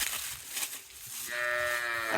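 A Gir cow, kept with her calf at a cattle sale, lets out a long, close moo that swells and holds to the end, preceded by brief rustling.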